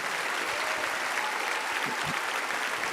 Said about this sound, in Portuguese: vamos aplaudi-los, por favor, irmãos